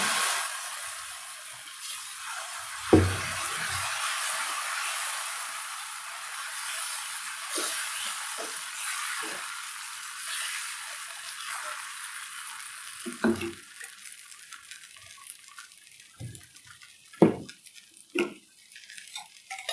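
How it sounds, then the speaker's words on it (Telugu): Green gram and finger millet dosa batter sizzling on a hot pan, a steady hissing fry across the whole stretch, with occasional soft clinks and scrapes of utensils. "దోశ వేసేస్తా"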